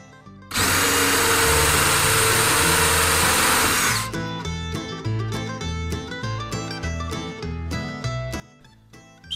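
A power drill boring countersunk pilot holes for screws in a wooden monitor riser stand, a loud steady whine for several seconds, then quieter clunks and handling noises.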